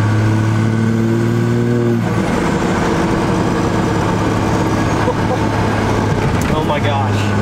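A 12-valve Cummins diesel in a dually pickup truck running close by with a steady, loud drone and a constant hum, and a voice talking over it.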